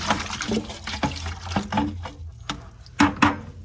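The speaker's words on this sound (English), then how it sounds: "I'm gonna throw this water again in here because we don't want any clay water" Water sloshed and poured into a closed-system pottery wheel cleanup sink, arriving in a series of uneven splashes and gurgles, close and moderately loud, with no talking.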